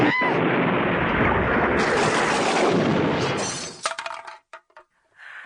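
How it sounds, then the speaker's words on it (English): A loud explosion sound effect in an audio drama as a missile strikes a home: a sudden roaring blast with shattering glass and crunching debris that rumbles on for several seconds, then breaks into scattered clinks and settling fragments before stopping. "And bring up explosion."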